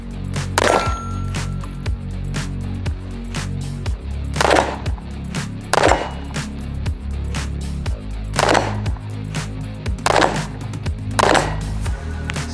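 An Infinity Bone Crusher pistol fires about seven single shots at irregular intervals of one to two seconds. Each is a loud sharp crack with a ringing metallic clang of target hits between them, outdoors at a range.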